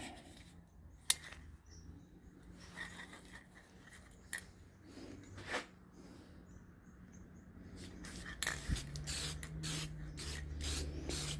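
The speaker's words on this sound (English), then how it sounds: "And take this can of polyurethane right here. We're going to spray it." Short hissing bursts of a polyurethane spray can, spaced irregularly, quiet and close, with faint handling noises in between and heavier spraying toward the end.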